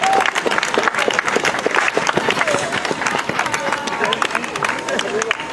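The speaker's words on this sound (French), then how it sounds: "toujours des arrivées, toujours des applaudissements, bien sûr." A crowd at the finish line of a 10 km race in Toulouse claps and cheers continuously as runners arrive, close busy applause with footsteps and babble, and a voice speaks over it.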